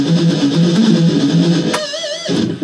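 Electric guitar playing a fast riff, a quick chugging run of repeated low notes, then a brief wavering bent harmonic ringing out before the riff resumes, loud and close with no talking.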